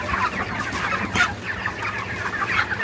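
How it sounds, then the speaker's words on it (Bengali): Chickens on a poultry farm clucking steadily and continuously, several birds close by calling over one another in a busy shed with no voices. "এখানে সব ধরনের মুরগি রয়েছে।"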